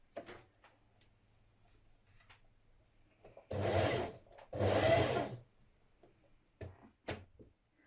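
A sewing machine stitches the shoulder seam of a gathered top in two short, close whirring runs, separated by a brief pause, amid quiet handling sounds.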